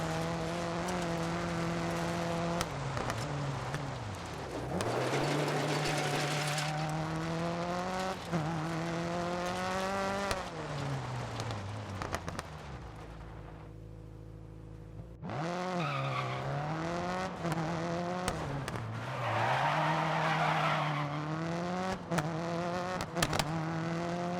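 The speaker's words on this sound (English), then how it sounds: "A little bit of tire squeal is a good sign that you're pushing the car to its limits" Rally car tires squeal repeatedly while sliding on pavement in the DiRT racing game, with a strong engine whine rising and falling through gear changes and a brief lull mid-way before the engine roars back.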